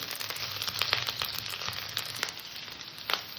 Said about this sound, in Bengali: আদাটা দিলাম এটাকে একটু কষে নেবো যাতে আদার কাঁচা গন্ধটা না থাকে